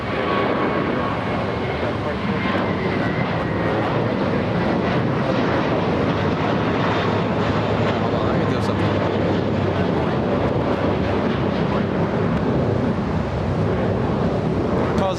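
Heavy jet departing runway 25 right at LAX, a loud continuous broadband engine roar that holds steady throughout, with rumbling wind noise and faint chatter underneath.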